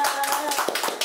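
Kids clap together right after singing happy birthday, a dense, close burst of clapping with a few voices mixed in, filling the whole short moment.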